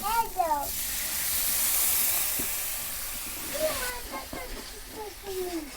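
Water poured into frying masala in a village kitchen hisses in a loud, steady burst of sizzling and steam that swells then fades, with someone talking before and after.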